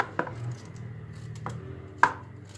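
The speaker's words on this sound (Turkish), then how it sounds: "Şöyle güzel küp küp doğruyoruz." Knife chopping quince into small cubes on a board for quince jam, with three sharp, separate chops spaced across a quiet kitchen background.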